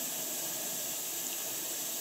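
Steady hiss of steam escaping from leaky fittings and the pressure-gauge connection on a live steam model Mallet locomotive, faint and continuous with no pauses.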